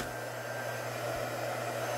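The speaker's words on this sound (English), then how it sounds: "I don't think these will work with just a hair dryer." A hair dryer runs continuously nearby with a steady, even whir and no other sounds.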